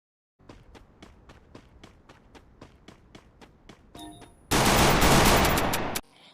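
Gunfire in the mobile video game Free Fire: a steady run of about fifteen evenly spaced sharp shots, then a short burst and a loud sustained blast of noise before it cuts off.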